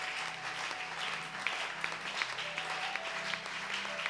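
Church congregation applauding to acclaim God during a worship service, a steady sustained clapping with scattered sharper claps and a faint low musical drone beneath.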